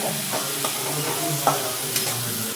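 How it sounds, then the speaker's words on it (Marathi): Squeezed, washed bitter gourd pieces frying in a hot pan with a steady low sizzle, broken by a few soft scraping stirs, close up and with no talk. "पिळून कारलं टाकते"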